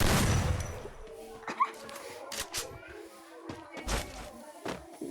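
Sporadic bursts of gunfire in a shooting video game, a handful of short sharp shots spread across the moment with softer in-game clatter between them, fairly quiet overall.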